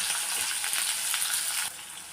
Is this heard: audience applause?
no